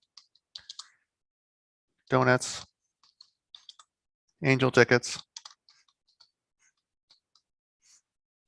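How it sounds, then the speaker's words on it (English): Computer keyboard typing while filling in a form in zipForm software: sparse, light clicks and taps scattered across the clip, with two short bursts of nearby speech between them. "Okay, I need to keep on typing."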